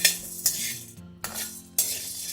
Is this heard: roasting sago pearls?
yes